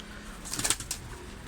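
Brief soft cooing and fluttering of pigeons crowded together in a loft, over a steady low background hum.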